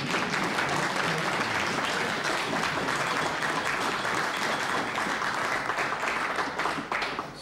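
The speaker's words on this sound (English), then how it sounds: "Standing ovation." Dense, sustained applause from a large crowd gives a standing ovation after a political address about the coming election, loud and steady throughout before easing slightly at the end.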